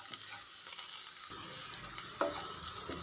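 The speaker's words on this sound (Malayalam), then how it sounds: "അതും കൂടി ചേർത്തിട്ട് ഒന്ന് വഴറ്റി കൊടുക്കാം." Masoor dal masala with green chillies being sautéed and stirred in a pan gives a steady soft sizzle, with a brief louder scrape of stirring near the end and no voices.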